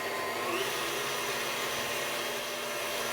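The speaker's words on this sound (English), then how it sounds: "now we're gonna whisk this together until it's tripled in volume" An electric mixer whisks tiramisu cream, running as a steady, loud whirring drone throughout with no pauses or speech.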